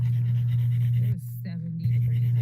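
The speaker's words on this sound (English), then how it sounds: "Gotta play with the dogs." Dogs pant in short, quick breaths close by, with a steady low hum running underneath and a brief break partway through.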